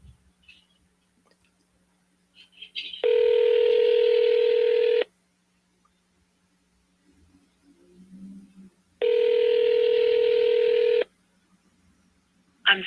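A phone call being dialed and ringing: two long, steady electronic ring tones about two seconds each, separated by several seconds of near silence with faint small noises, clear and close.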